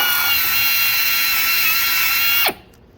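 A spot weld drill boring through metal: a steady high-pitched whine of the bit grinding for over two seconds, then winding down and stopping abruptly as it breaks through to the base piece.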